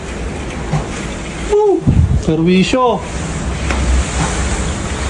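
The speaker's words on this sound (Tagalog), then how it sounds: "Sana huminto na itong ulan" Steady typhoon rain and wind roar continuously around a house taking in water, a dense broadband wash throughout, with a voice speaking over it in the middle.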